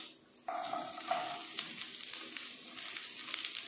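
Green chillies and cut onions sizzling in oil in a pan for a Tamil drumstick coconut-milk kuzhambu, a steady hiss and crackle starting after a brief stir, with no talking.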